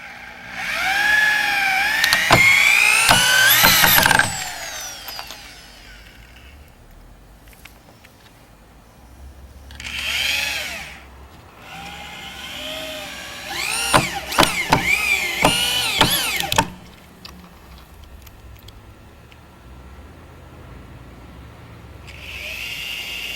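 A power drill drives 3-inch screws into wooden studs while a halfpipe frame is built, giving several loud whirring bursts of rising and falling pitch separated by quiet gaps.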